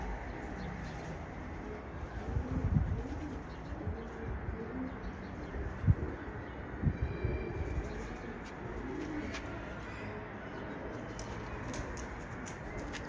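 Pigeons coo softly and repeatedly at close range over a steady background hum, with occasional faint rustles.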